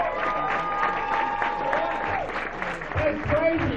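A stand-up comedy audience in Sydney, Australia claps and cheers in a steady wash of applause, with a voice talking over it.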